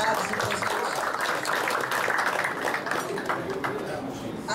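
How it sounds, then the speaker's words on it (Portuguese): Guests and members applauding at a Rotary Club meeting in Florianópolis, a sustained, even round of clapping filling the room for several seconds, with faint voices mixed in. "Solicito uma salva de palmas aos convidados e presentes"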